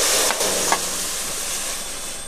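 Water poured into a hot wok bursts into a loud, close hiss that settles into a steady, even sizzle for a couple of seconds.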